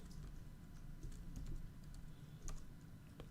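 Close, steady clatter of computer keyboard keys as Linux commands are typed, a fast continuous run of light keystrokes over a faint room hiss, with no voices.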